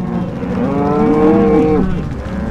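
Cattle moo during a spring drive to pasture on an Idaho ranch, with a single long, loud, close bellow over steady outdoor background noise.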